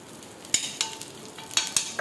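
Rava dosa cooks on a hot griddle with ghee, giving short sizzling bursts and scraping clicks in quick irregular succession, close and fairly loud, with no speech.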